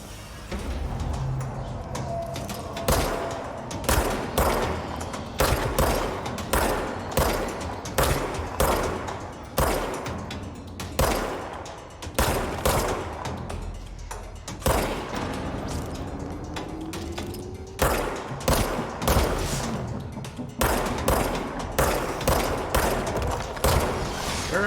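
Rapid bursts of gunfire from the video game Control, mostly loud close shots in quick volleys with short pauses, over a steady game ambience and occasional mechanical clanks.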